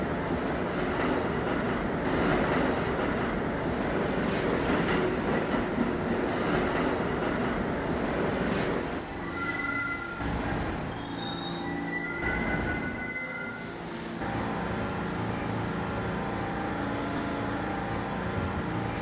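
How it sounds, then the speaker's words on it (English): A New York subway B local train rumbles steadily along the rails in a snowy winter setting, with a loud continuous roar and brief high wheel squeals midway; no voices. "This is a slick and bound B local train."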